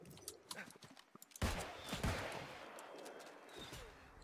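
Two gunshots in the online fantasy game New World, the first sharp crack landing abruptly and a second close behind it, loud and near. Both trail into a dense rumble and ambient clatter.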